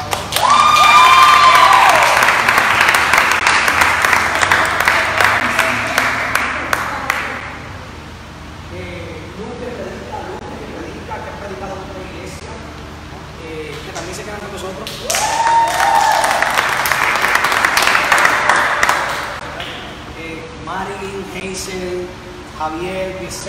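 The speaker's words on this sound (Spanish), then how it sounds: "Un fuerte aplauso" A church congregation breaks into loud applause and cheering twice, each burst lasting several seconds, with someone talking in the quieter stretch between them.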